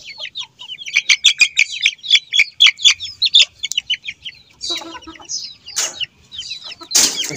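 Close chicks peep in rapid high chirps, followed by a few softer clucks from a broody hen and scattered calls from nearby fowl.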